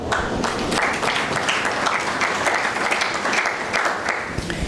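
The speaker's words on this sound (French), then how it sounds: "Applaudissez pour eux." A university audience in Burundi breaks into loud, sustained applause, a dense continuous patter of many hands clapping close by, with no speech over it.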